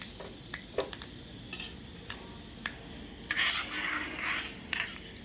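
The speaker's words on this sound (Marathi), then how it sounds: "आता तेल तापल्यावर आपण ही मेथी याच्यात घालूयात आणि आपल्याला ती अशी तळून घ्यायची चांगली" Fenugreek seeds fry in hot oil while a utensil stirs and scrapes the pan, sounding as light ticks and scrapes with a soft sizzle building toward the end. No one speaks.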